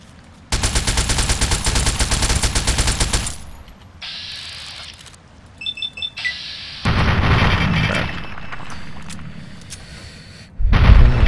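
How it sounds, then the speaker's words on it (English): Submachine gun fire in Fallout 3 in Rivet City: a long, dense, rapid burst of shots rattles for about three seconds, followed by quieter clinks and clicks and then a second sustained stretch of loud firing. "I'll just use the submachine gun for the for this dude."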